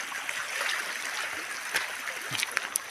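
A small stream gurgles nearby at low volume, a soft trickling wash broken by a few light splashes and drips toward the end.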